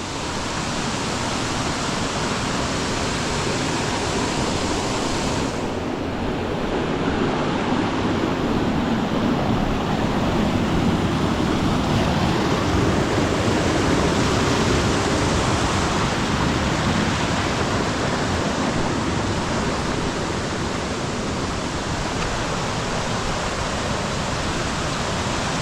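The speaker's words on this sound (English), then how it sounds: "That's the true waterfall." Hin Lad Falls, a jungle waterfall on Koh Samui, Thailand, roars as a loud, steady broadband rush of falling water, constant and close throughout with no voices.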